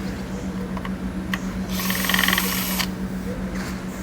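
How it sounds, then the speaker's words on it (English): Wrench ratcheting on ignition coil screws of a 2013 Mercedes-Benz C250, a close, steady mechanical clicking that swells into a louder burst in the middle over a low engine-bay hum. "You can use a wrench if you have one. Just to speed up the process."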